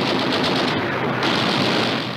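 Sustained machine gun fire in South Pacific jungle warfare against entrenched positions, a dense continuous roaring burst with no gaps, loud and close.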